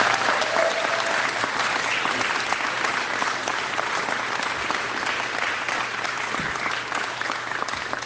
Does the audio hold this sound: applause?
yes